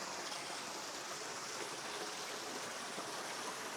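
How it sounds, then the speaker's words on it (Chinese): A mountain spring stream spilling over rocks into a small waterfall near an abandoned rural hamlet, heard as a constant, even, fairly faint rush of flowing water, with no voices. "你看这个山泉水，"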